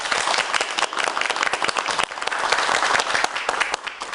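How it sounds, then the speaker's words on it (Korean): Lively audience applause in a studio lecture on job creation for middle-aged job seekers, a dense flutter of many hands clapping close by, briefly dipping midway before continuing strongly. "메가더스쿨 정은상 교장 선생님께 큰 박수 부탁드립니다."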